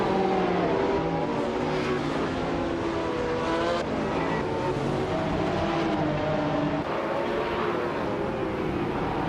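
A 2018 McLaren Senna supercar races at Mosport, its engine roaring and revving steadily with other cars audible around it, loud and continuous, with no voices.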